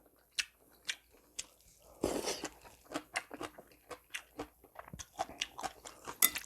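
Close, crunchy bites and wet chewing of jjapaguri noodles with 500 g of beef, in a steady rhythm of bites plus one longer burst of rustling slurping, with no talking.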